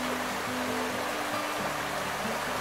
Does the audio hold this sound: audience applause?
no